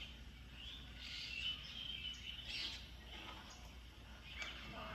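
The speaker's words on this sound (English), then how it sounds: "look at the parrot and other birds noises, they are chirping and making happy sounds." Parrots and other birds chirp and tweet in bursts against a quiet outdoor background in a village in Ballia district, Uttar Pradesh, India, high calls overlapping now and then, fairly faint and distant.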